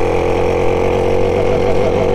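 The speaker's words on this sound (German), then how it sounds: "Erstmal Motor ein bisschen warm kriegen." A cold SR2 moped engine idles while warming up, producing a loud, steady, close-up buzzing hum with no speech.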